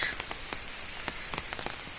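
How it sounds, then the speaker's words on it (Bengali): Heavy rain pours onto a pond beside a temple in Rajpur. A constant wash of downpour is dotted with sharp, close drop splashes at irregular moments. "প্রচণ্ড বৃষ্টি হচ্ছে, মুষলধারে বৃষ্টি হচ্ছে, কন্টিনিউ বৃষ্টি চলছে"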